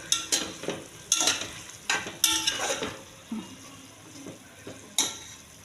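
Paneer, green peas and curd go into a pan for veg dum biryani, with a light sizzle under repeated clacks and scrapes of a spoon stirring against the metal, close and uneven.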